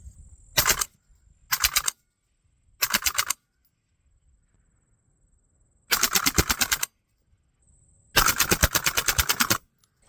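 Five bursts of rapid 10.3-inch rifle fire through an Otter Creek Labs Infinity 30 suppressor, each a short string of muffled cracks, separated by pauses; a faint high whine sits under the quiet gaps.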